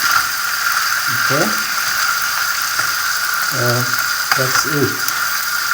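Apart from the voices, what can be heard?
frying egg fried rice with beef in a pan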